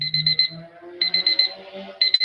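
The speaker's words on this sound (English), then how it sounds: "So that is my alarm." A repeating alarm beeps in bright, evenly spaced bursts, pausing briefly between groups, loud and close with no talking.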